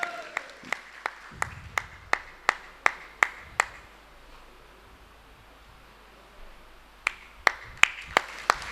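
An audience at an outdoor Hindi poetry gathering in Sarwania Maharaj claps in a steady, synchronized rhythm of sharp slaps, stops for a few seconds, then picks up the beat again, sounding somewhat distant.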